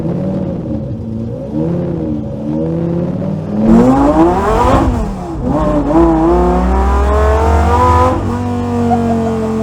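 A V10-swapped rear-wheel-drive Lincoln Continental floored from a stop, its engine climbing through loud rising revs with a deep roar and rasp, near and sustained, with no talk over it.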